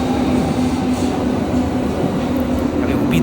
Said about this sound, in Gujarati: ટ્રેન આવવાની વાર હતી. આવી ગઈ.